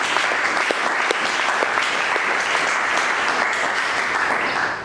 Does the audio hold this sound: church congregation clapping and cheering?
yes